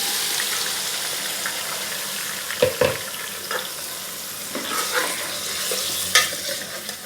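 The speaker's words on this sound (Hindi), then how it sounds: "चिकन को फ्राई करेंगे अच्छे से" Chicken pieces frying in oil in a karahi, steady loud sizzling with occasional stirring scrapes and clatters, no talking.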